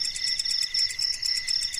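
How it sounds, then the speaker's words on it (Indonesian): Crickets chirp steadily in quick pulsing trills on a still night by a riverbank, several insects overlapping in a continuous high, moderately loud chorus with no other sounds. "hanya suara jangkrik bersahut-sahutan"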